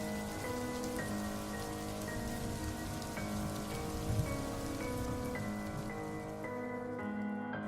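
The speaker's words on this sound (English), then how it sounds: "Eventually, the rain stopped" Heavy rain falls in a dense, continuous hiss and patter on surfaces, steady throughout and mixed with sustained musical tones.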